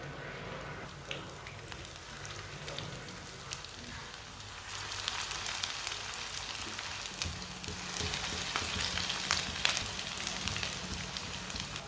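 Kebabs frying in a pan, a steady hiss and crackle of hot oil that stays fairly quiet and grows a little denser and louder partway through, with no talk over it.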